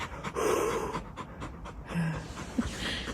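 A dog pants rapidly and steadily, its quick breaths close and continuous, with a faint whine near the end.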